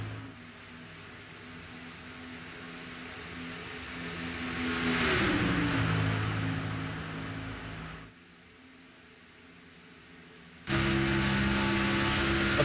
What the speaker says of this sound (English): Looks like we have another lap car running by himself way up front.